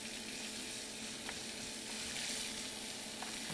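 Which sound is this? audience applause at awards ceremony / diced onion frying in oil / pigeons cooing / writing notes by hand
diced onion frying in oil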